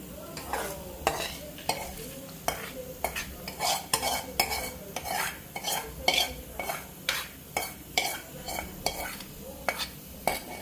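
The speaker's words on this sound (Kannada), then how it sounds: "ಒಗ್ಗರಣೆನೂ ಹಾಕ್ಬಿಡ್ತೀವಿ" A spoon stirs a tempering into a pot of boiling rasam with coriander leaves, making repeated scraping strokes roughly twice a second over a soft simmering hiss.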